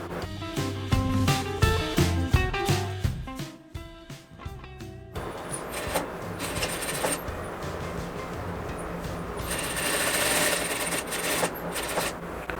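A sewing machine stitches fabric strips together for a kitchen apron, a steady mechanical whirr with rubbing, rasping texture that runs through most of the clip after a busier, more tonal opening.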